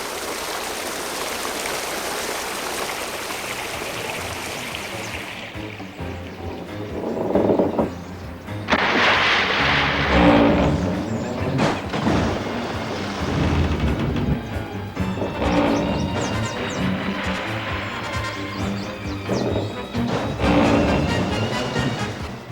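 Rushing water from a staged Red Sea parting effect in a Ten Commandments studio show, where over 40,000 gallons drain in minutes: a loud, roaring torrent that surges in heavy bursts after a quieter start.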